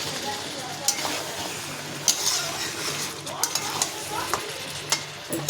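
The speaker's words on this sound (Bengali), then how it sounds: "অল্প গরম জল দিলাম, দিয়ে আর একটু কষাবো আমি" A curry is stir-fried with a little hot water added so the oil separates, giving a steady close sizzle with repeated scraping and clinks of the spatula against the pan.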